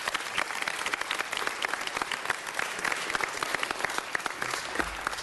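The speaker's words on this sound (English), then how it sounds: "let's give them a huge round of applause for their beautiful art" Audience applause for artists receiving certificates at a city council meeting, a steady dense clapping from a mid-sized crowd heard alone throughout, fairly distant and soft.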